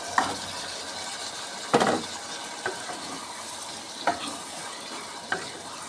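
Boiled new potatoes are stirred into a sizzling spice masala in a pan, a constant hiss of frying broken by a few sharp spatula scrapes and knocks spaced a second or so apart.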